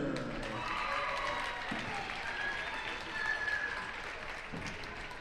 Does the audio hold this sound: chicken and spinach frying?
no